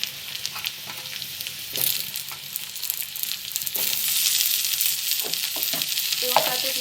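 Onion and potatoes frying in a pan, a steady hiss with scraping stirs and clatter, louder and fuller toward the end, close and with no talk.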